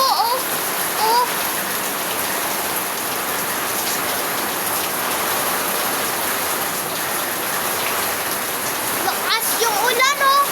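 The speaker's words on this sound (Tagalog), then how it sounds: "Lakas yung ulan natin, eh." Heavy rain pours steadily, a dense, loud hiss of drops hitting surfaces throughout, with a person talking intermittently over the downpour.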